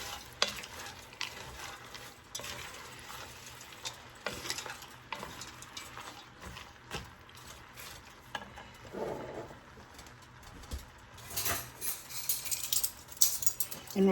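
Frozen peas stirred into a sizzling pot for Hoppin' John, with scraping spoon strokes and clinks against the metal over a steady frying hiss, close and moderately loud.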